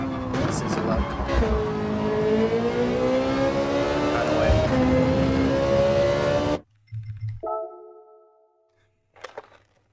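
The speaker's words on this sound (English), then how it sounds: "This is a loud car." A loud race car engine in a racing video game played in VR, revving with rising and falling pitch for several seconds under a talking player, then cutting out to brief quieter engine bursts.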